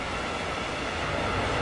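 A BR294 diesel locomotive running in the Train Simulator 2015 game on the Ruhr-Sieg line: a steady, loud engine drone with rolling wheel and rail noise, unbroken throughout.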